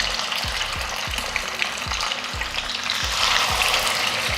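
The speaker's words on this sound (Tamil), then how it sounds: "ஸ்டவ் ஆன் பண்ணி கடாய் வச்சுட்டு அதில் எண்ணெய் நல்லா காஞ்சதுமே சிக்கன் வச்சிடலாம்." Chicken pieces fry in hot oil in a kadai for a Tamil chicken varuval and kuska, giving a loud, steady sizzle broken by a regular series of low thumps and scrapes from a spoon or pan.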